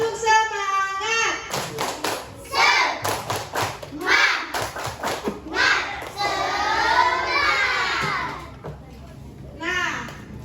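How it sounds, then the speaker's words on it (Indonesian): Children in an Indonesian primary school classroom clap for a group together, a mix of bursts of claps and thuds with children's voices and shouting over them, close and lively. "berikan tepuk tangan untuk kelompok 1"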